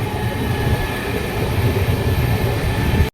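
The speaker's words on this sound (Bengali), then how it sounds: "আমাদের ট্রেন আর লোকাল ট্রেন একসাথে ছেড়ে দিয়েছে।" A passenger train rumbles steadily while moving off alongside a local train, a continuous low roar with faint rail clatter, heard from on board; loud and even, then cuts off.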